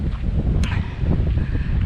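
Wind buffets the microphone on a rocky outcropping near a mountain summit along the Blue Ridge Parkway, a constant low, loud rumble with no other sounds above it.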